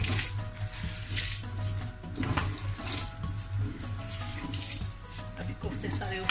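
Water runs steadily into a cooking pot of rice pilau with kebabs and kofta, a continuous close splashing rush that lasts throughout in a home kitchen.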